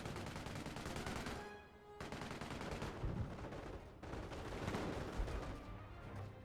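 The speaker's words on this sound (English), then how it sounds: "Average Katyushas, they really not great barrages." Katyusha rocket artillery barrage in a 4v4 war game on the Bastion map, a dense rolling roar of rapid launches and blasts that fills the whole stretch, faint and distant, with no talking.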